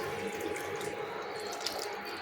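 Water poured from a tap or jug into a cooking pot for a spicy North Karnataka lentil curry, a steady, continuous splashing flow at moderate level with no pauses.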